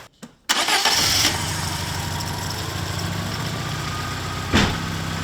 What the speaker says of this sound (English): Please start the engine in 20 odd seconds.